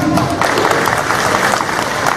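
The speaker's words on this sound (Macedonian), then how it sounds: "на крај ќе ги наградиме голем аплауз" Applause from an audience at an exhibition opening in Bistra, a steady, dense wash of clapping filling the room from start to finish without a break.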